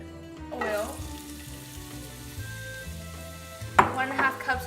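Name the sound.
onions sautéing in hot oil in a pot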